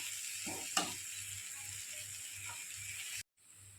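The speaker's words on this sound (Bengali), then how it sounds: "সমস্ত মশলা দিয়ে পরে একটু ভালো করে কষিয়ে নিচ্ছি" Ground spices, including roasted spice mix, black pepper and chili powder, fry in a pan with a continuous close sizzle. Scraping stirs come through periodically before the sound cuts off briefly and resumes.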